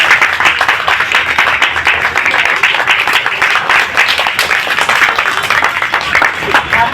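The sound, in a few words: loud applause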